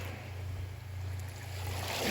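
Ocean surf washes over the swash zone of a Florida beach on Marco Island, a steady, rushing wash with wind noise and a low hum, rising slightly toward the end.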